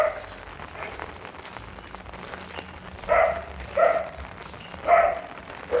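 Rain falling steadily at an American Akita kennel, a soft continuous patter with three short, louder bursts, likely dog barks, in the second half.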